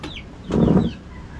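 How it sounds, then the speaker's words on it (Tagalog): A chicken clucks nearby outdoors, a single short, throaty cluck burst in the middle of the moment with faint background sounds before and after. "Ay, manok."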